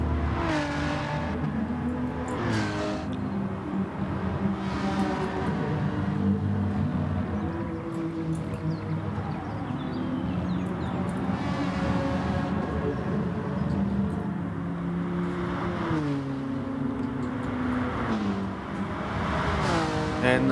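Ferrari and Honda race cars running side by side at Monza in a racing video game, engines droning and revving continuously with rising and falling pitch sweeps as gears change, loud and steady throughout.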